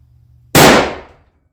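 A single loud rifle shot from a custom Model 70 at a shooting range cracks sharply after a short quiet pause, then its echo fades over about half a second.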